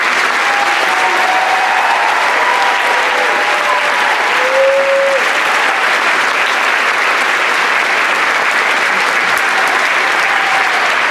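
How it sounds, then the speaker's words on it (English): Loud, dense applause fills an auditorium at a high school orchestra concert, a sustained crowd of hands clapping steadily for around eleven seconds with a faint tonal sound briefly audible beneath it. "if you could give her a round of applause"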